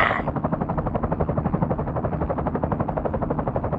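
Cartoon helicopter in flight, a steady rapid rotor thudding that stays constant and fairly close, running alone without voices.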